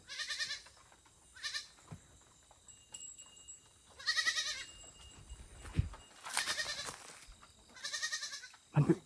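Goats and young kids bleat repeatedly in short wavering calls, several loud cries spaced a second or two apart with quieter gaps, close by in a rural setting, with a sharp knock near the end.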